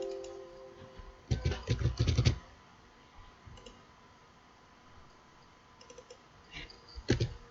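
Keys clatter on a computer keyboard in quick bursts, one dense run of typing followed by sparse clicks and a final short flurry, close and fairly quiet against a faint hum.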